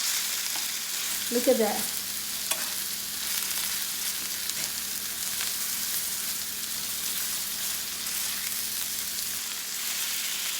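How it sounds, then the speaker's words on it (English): Beef for fajitas searing in a hot pan makes a constant close sizzle that hisses evenly throughout, with a short spoken remark near the start. "You can hear the wonderful sear."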